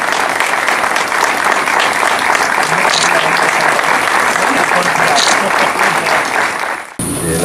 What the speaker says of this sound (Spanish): el aplauso de todos ustedes, más que merecido, por supuesto